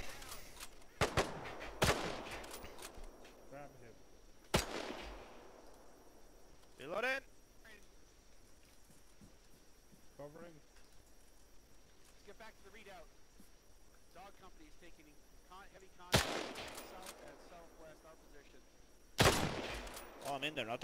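Bursts of gunfire crack out in a World War II shooter set during the escape to Dunkirk, with several sharp volleys spread across the scene amid quieter stretches, while players talk over the action.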